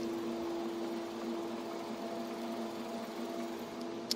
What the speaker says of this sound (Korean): 확실히 LPG 차량이기 때문에 굉장히 정숙한 엔진 소음 만나보실 수가 있습니다